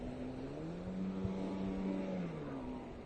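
Slalom ski boat engine at a junior nationals race, its exhaust note rising as the driver accelerates, a steady droning roar with a slight pitch swell midway, continuous and fairly distant.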